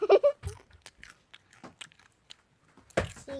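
Close crunchy chewing and biting while eating popcorn, in sparse quiet bursts with a louder crunch near the end.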